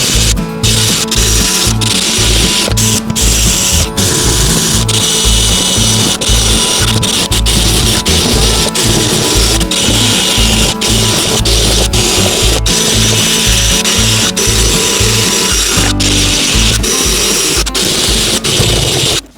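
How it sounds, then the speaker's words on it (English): A power drill grinds steadily and loudly drilling out rivets during bus wall removal, for a long stretch with brief pauses, with music playing along underneath. "I'll keep drilling."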